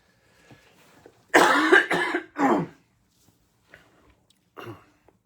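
A man coughs hard once in a harsh, throaty burst of three quick pulses up close, followed by a few faint breaths and a smaller throat-clearing sound.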